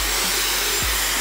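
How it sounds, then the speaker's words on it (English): Dyson hair dryer blowing, a loud, close, steady airy whoosh that runs unbroken for the whole moment, with no voices. "And then I'm just gonna get a hair dryer."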